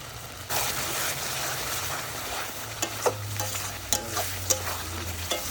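Dried fish simmers in a pan with its washing water, a steady bubbling sizzle broken by several sharp scraping stirs of a spatula against the pan, close and fairly loud, no voices.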